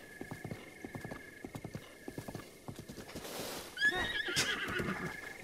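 A horse in Zelda: Breath of the Wild trots with a steady clip-clop of hooves, then lets out a loud, shrill whinny near the end over a faint, constant background tone.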